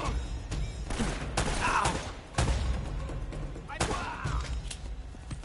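Pistol fire in the action game Uncharted: Drake's Fortune, a series of sharp, loud shots spaced irregularly about a second apart over a low ambient rumble, with someone talking faintly between them.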